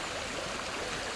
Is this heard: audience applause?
no